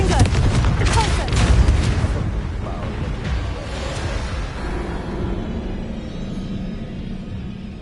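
Spell blasts from Hogwarts Legacy combat: a run of loud, overlapping booms and fiery bursts in quick succession that fade into a lingering low rumble, with no clear talk over them.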